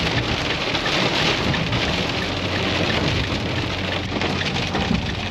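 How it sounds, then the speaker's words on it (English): Rainstorm on a remote mountain road in Mexico, a dense, constant roar of heavy rain with low rumbling underneath, steady throughout and with no voices. "a rainstorm started"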